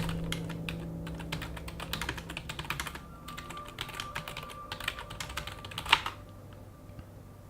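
Steady, quick clicking of keys on a computer keyboard, close and fairly quiet, as a message is typed into chat in the online game Anarchy Online, with a brief louder clack near the end.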